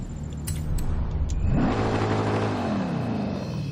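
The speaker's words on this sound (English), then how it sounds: "That's what it sounds like with the race exhaust." An Audi RS 6 with a race exhaust in Forza Horizon 5 idles with a low rumble, then revs sharply upward and settles into a loud, sustained growl that slowly drops in pitch.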